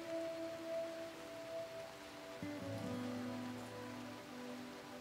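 Soft, steady rain patters continuously in the video game RimWorld, a faint background hiss with some quiet tonal game music layered underneath.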